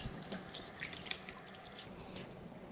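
Tap water runs while raw chicken is rinsed in a sink, a steady soft splash and trickle with small drips and handling noises, close and continuous for a few seconds without speech.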